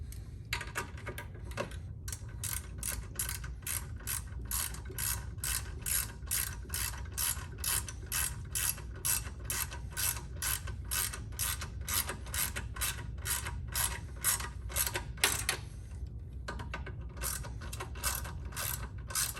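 A ratchet clicks in a fast, even series while tightening a belt tensioner bolt on a 2014-2019 Can-Am Spyder RT, close and fairly quiet, with a short pause before the clicking resumes.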